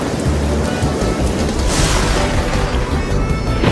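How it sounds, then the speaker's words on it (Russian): Heavy rain pours steadily while a deep rumble of thunder rolls through the middle, loud and close. "Тут сверкнула молния, ударил гром,"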